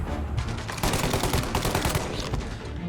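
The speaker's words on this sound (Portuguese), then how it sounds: "tem um monte de tiro por conta do pau e do Sam" Dense bursts of gunfire from the video game Mafia Definitive Edition, rapid overlapping shots and automatic fire, loud and close, filling the short stretch without talk.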